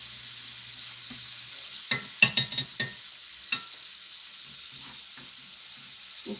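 A grilled cheese sandwich fries in butter in a pan, giving a steady close sizzle and hiss with a few light scrapes and clicks near the middle.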